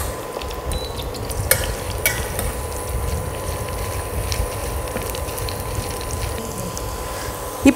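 Garlic frying and being stirred in a small pan for chutney, a steady close sizzle with occasional sharp scrapes and clicks of the spoon.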